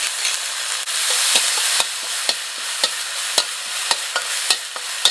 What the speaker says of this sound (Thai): เราก็จะผัดน้ำพริกกะปิเนี่ยให้หอมก่อน